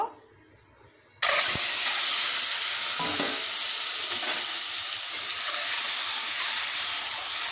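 Eggs dropped into hot oil seasoned with salt and turmeric burst into a loud, sudden sizzle after a brief quiet moment, then fry on in a steady, close crackling hiss.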